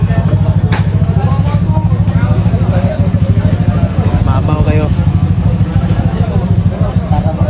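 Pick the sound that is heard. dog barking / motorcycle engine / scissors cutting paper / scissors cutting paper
motorcycle engine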